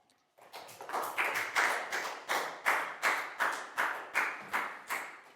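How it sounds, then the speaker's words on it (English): Children in a Year 4 maths classroom clap together in a steady, even rhythm, about a dozen sharp group claps in a row with no talking. "Big round of applause for Chu"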